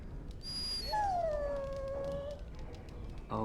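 A dog howls in the fantasy video game Dragon Age Origins: one long, wavering howl that slides downward, mid-distance over a steady ambient hum, with no talk.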